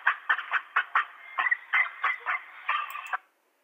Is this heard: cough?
no